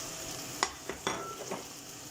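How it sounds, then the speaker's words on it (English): Carrots being dropped into a pan of stew sizzling steadily, with a few soft clatters and stirring knocks over the frying hiss. "I am now going to add the carrots in"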